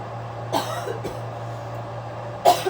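A few short coughs, one early and a double one near the end, over a low steady hum in a quiet room.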